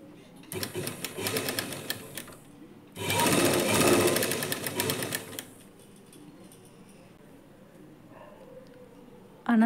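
A sewing machine stitches a lining blouse in two short, loud bursts, followed by quieter handling noise and a faint voice.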